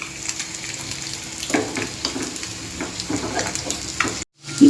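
Large pieces of egg being turned over in frying masala in a pan, with a continuous close sizzle and intermittent scraping and stirring strokes, briefly cutting to silence near the end.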